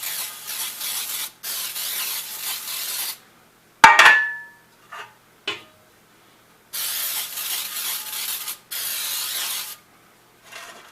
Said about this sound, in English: I like to use Baker's Joy or any of the sprays.